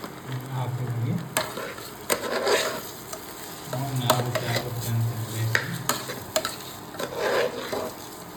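Steady sizzling of basmati rice frying in a pan, with occasional scrapes and clinks of a utensil stirring, close and moderately loud.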